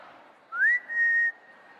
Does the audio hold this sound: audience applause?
no